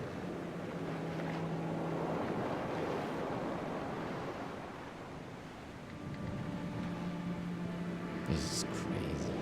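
A ship sails out of a grotto in the game The Pale Beyond, with a steady wash of sea water and wind throughout and a sharp knock near the end.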